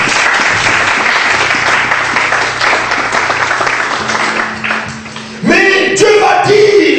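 A church congregation at a French-language worship service applauds together in dense, steady clapping for about five seconds, then a louder sung or musical passage takes over.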